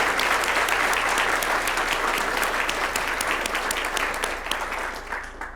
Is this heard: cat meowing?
no